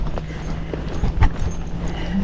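A Missouri Fox Trotter horse walks with a steady series of hoof clops over a background hum, the hoofbeats moderately close.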